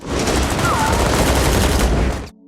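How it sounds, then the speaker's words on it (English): Dense, loud gunfire rattles in a continuous rapid burst, shots overlapping like a heavy firefight, before cutting out abruptly. "as bullets fly in every direction."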